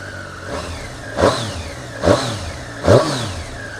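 A 2017 Triumph Street Triple 765 RS motorcycle engine runs close by, giving three sharp revs in a row about a second apart over a steady idle.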